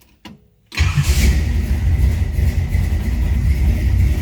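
A 1957 Chevrolet Sedan Delivery street rod cranks for a moment, catches almost at once and settles into a loud, steady idle.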